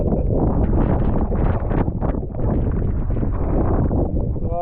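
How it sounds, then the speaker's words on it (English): Strong gusts buffet a sailboat reefed down in a winter Norwegian channel, loud rushing wind with heavy microphone rumble that surges and eases throughout, up close. "There's a lot of wind in the channel"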